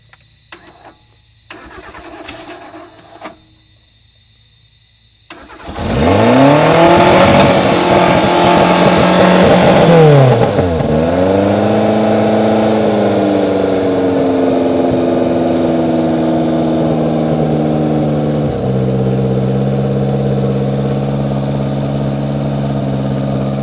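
An old Suzuki truck engine cranks and catches after faint clicks, then revs up loudly, drops, and settles into a steady rough idle with a small step in pitch, close and continuous.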